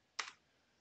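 A short burst of computer keyboard typing, a quick cluster of faint, crisp key clicks lasting a fraction of a second as an nslookup command is entered at a command prompt.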